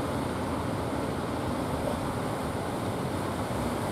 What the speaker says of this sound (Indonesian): ombak pelawangan